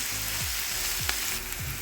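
Chopped onion and diced mushrooms fry in a pan with a loud, continuous sizzle and crackle. Low scraping strokes from stirring repeat roughly every half second, and no one speaks.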